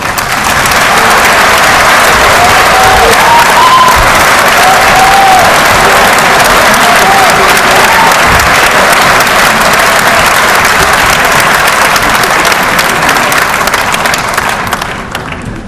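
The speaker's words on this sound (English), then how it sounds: "I think I would be acting out of character if I didn't ask you to clap again." A large audience applauding at the official declaration of South Africa's 2019 election results, loud sustained dense clapping at a steady level from start to finish, tapering only at the very end.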